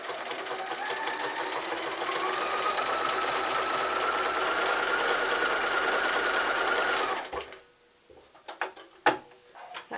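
A sewing machine stitching zig-zag applique runs in one steady, fast whirring burst for about seven seconds, then stops, followed by a few sharp clicks and knocks of handling the fabric or machine.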